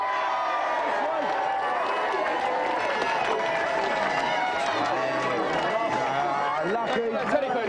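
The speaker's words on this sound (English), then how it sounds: "Well done, give him a big cheer." A television studio audience at the 1993 GamesMaster Christmas special cheers and claps loudly and continuously, with whoops and chatter mixed into the roar.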